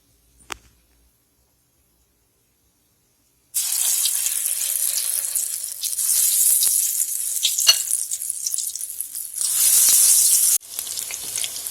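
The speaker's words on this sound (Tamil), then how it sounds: "நல்லா எண்ணெயில் இது பண்ணி விடுங்க, திருப்பி விடுங்க. எல்லா பக்கமும் நல்லா அது ஃப்ரை ஆகி வரட்டும்." Marinated soya chunks hit hot oil in a kadai after a brief clink, then a loud, close, crackling sizzle runs on continuously, swelling and easing as they are stirred.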